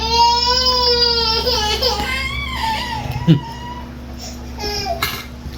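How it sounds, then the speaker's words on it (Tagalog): A hungry baby grandchild cries in loud, wavering wails that rise and fall, with whimpering breaks and some babble, while a low steady hum runs underneath. "Yung apo ko maingay. Umiiyak. Gusto nang kumain."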